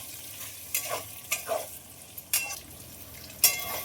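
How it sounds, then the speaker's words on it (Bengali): Potato masala cooked down with a little sugar, stirred hard in a hot pan; a low sizzle under four or five sharp, close spatula scrapes and clanks at uneven intervals, with no talking. "মশলাটা কষানোর জন্য খুব ভালোভাবে মেরে দেবো স্বাদ মতন একটু চিনি দিয়ে দেবো কষানোর জন্য আবারও খুব ভালোভাবে মেরে দেবো"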